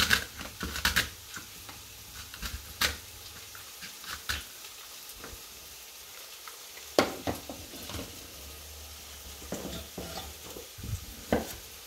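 Onions frying in a pan are stirred with a utensil, giving intermittent scraping and clacking strokes over a low steady sizzle; the sounds are close and there is no talking.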